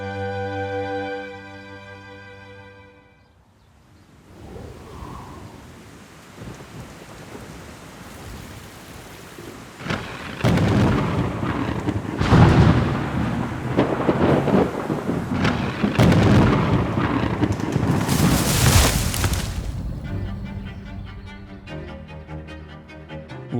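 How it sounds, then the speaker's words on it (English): An intense thunderstorm: heavy rain hisses steadily while loud thunder cracks and rolls several times, peaking in the middle, with a quieter music-like passage at the start and end. "Last night we had this crazy intense storm"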